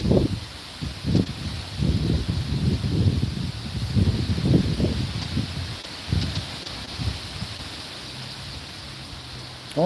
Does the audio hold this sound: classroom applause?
no